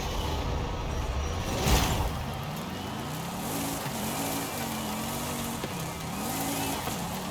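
A 1900-horsepower Fast X Impala in Forza Horizon 5 rolls downhill, its engine droning and shifting pitch up and down as it gains speed, with a brief loud rush early on and a voice talking over it.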